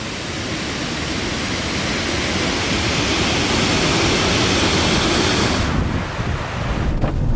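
Loud, constant roar of a waterfall near Loch Lomond, Scotland, broadband and unbroken, with wind buffeting the microphone; the rush dips briefly near the end.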